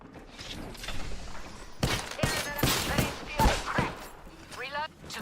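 Enemy gunfire in a video game, several sharp shots in quick bursts in the middle, then a rising whoosh near the end, with speech-like game audio running underneath.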